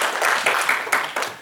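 A church congregation claps in brief bursts to welcome visitors at a Korean Baptist service, with a few separate waves of clapping over a moment of quiet room sound.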